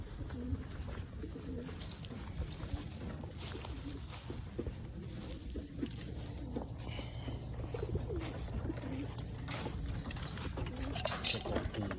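Newly arrived pigeons, mostly white and some brown, coo softly inside a loft, with low intermittent calls, rustling and a few mechanical knocks, some talking mixed in.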